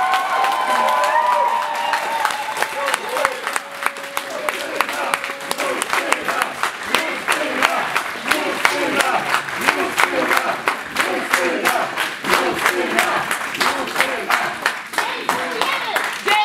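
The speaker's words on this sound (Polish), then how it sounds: "Brawa!" A crowd in a courtroom setting breaks into loud applause and cheering after a criminal case is discontinued, with rapid rhythmic clapping, shouts and excited voices running throughout.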